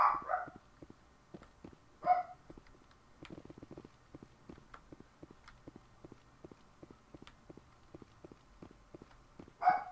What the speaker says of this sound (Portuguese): Meu cachorro dando a louca de novo.